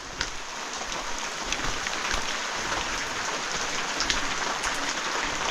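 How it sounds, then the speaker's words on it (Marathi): Steady rain falls continuously beside a stream outdoors, a dense hiss with scattered louder drops hitting nearby surfaces. "पाऊस आहे भरपूर"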